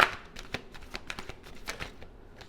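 New tarot cards being shuffled by hand, a run of quick papery riffles and soft slaps repeating unevenly at close range, fairly quiet with no talking.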